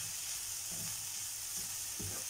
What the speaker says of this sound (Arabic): هنقلب بقى كله مع بعض اهو، عشان كله ياخد من الريحه والتتبيله الجميله بتاعته اهي.